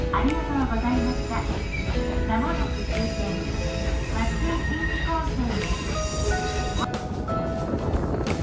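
Rumbling retro train running along rails in Shimane, Japan, with rhythmic clatter and faint squeals, steady throughout, with people talking in the background.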